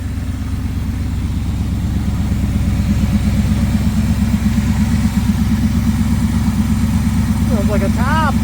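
A 1979 Trans Am engine idles after a tune-up, a loud, close, steady rumbling with a fast even pulse, while a person talks briefly near the end.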